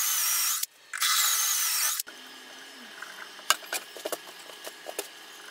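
A power drill bores double holes in wood for attaching wooden hinges to the legs of a camping folding table, with two loud sustained bursts of whirring, then quieter scattered clicks and taps from handling the workpiece.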